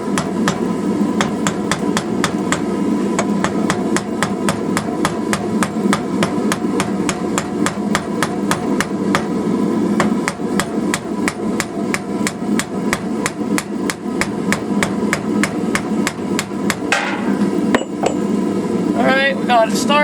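A hammer forges hot metal into a poppy flower head on an anvil, striking in a steady, rapid rhythm of loud, ringing blows that continue for the whole stretch, with a few lighter taps near the end.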